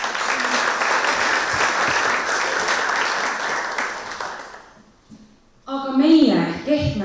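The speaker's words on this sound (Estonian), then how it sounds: "Aplaus teile kõigile endale" Audience applause fills a hall at a teachers' day event, a dense steady clapping that fades out near the end, followed by a voice speaking.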